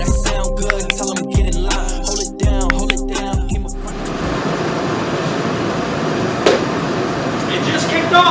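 A workshop heater kicks on and settles into a loud, steady roaring rush that fills the room, following a stretch of rhythmic music beforehand.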